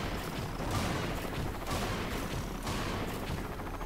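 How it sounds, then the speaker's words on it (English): Continuous gunfire from the Serious Sam 2 shooter, dense and steady with repeated bursts layered over one another at a loud, even level and no pauses across the whole stretch. "Something's shooting me."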